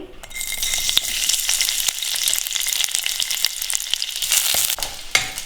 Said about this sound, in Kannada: ಅದನ್ನು ಲೈಟಾಗಿ ಈ ಥರ ಹುರ್ಕೋಬೇಕು